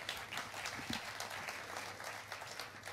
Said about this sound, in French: Quand ils applaudissent, non, ça fait un peu genre kermesse